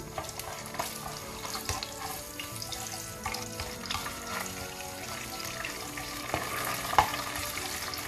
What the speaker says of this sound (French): J'ai mis de l'huile dans la poêle. Je vais ensuite rajouter la tomate pâte. Que je vais faire revenir un peu.